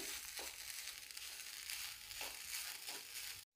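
Freshly grated coconut gets a light sauté in a pan over low heat. It gives a steady, soft crackling sizzle with faint scraping stirs, fairly quiet and continuous with no voices, then cuts off abruptly.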